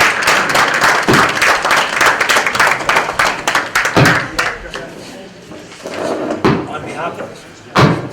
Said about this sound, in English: Let's give a nice strong round of applause